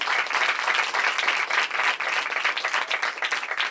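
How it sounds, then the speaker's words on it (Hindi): A church congregation breaks into loud, sustained applause, dense overlapping clapping that holds steady throughout with small swells and dips. "एक बार मैं जोरदार ताली बजा देंगे"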